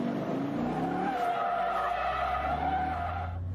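A muscle car spins donuts on a skid pan, its tyres squealing loudly and steadily while the engine revs underneath, before the sound cuts off abruptly.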